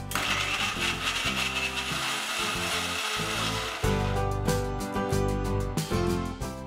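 A blender grinding ice apple pieces with nanari syrup and chilled milk into a milkshake, a loud continuous whirring and churning that shifts pitch partway as the contents break down.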